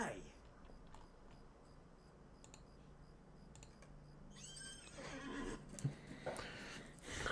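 A horse whinnies in the Lord of the Rings Online game at a stable, a faint call under low game ambience, with clicking keyboard taps and a brief burst of louder activity near the end.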